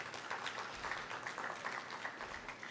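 An audience at a population and development forum's closing ceremony gives a faint, steady round of applause, with dense clapping throughout.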